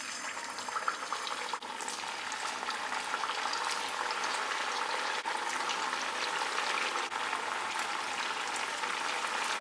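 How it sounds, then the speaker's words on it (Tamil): French fries deep-frying in hot oil on a medium flame, a dense, continuous bubbling sizzle heard up close at a steady level with no voices. "இப்போது இதை நம்ம டீப் ஃப்ரை தான் பண்ண போகிறோம். எண்ணெய் நல்லா சூடானதுக்கப்புறமா இதை போட்டுருங்க."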